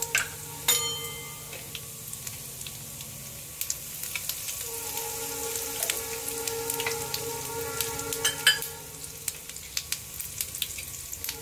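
Asafoetida dropped into hot oil with panch phoron over low heat, giving a steady soft sizzle and crackle with scattered light pops, close and continuous throughout.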